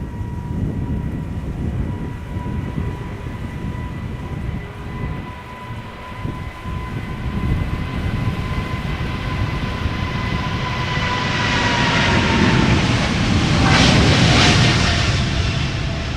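A KLM airliner departs Amsterdam Schiphol Airport, its jet roar building steadily from a distant rumble to a loud, broad whoosh with rising whine toward the end, heard outdoors without talk.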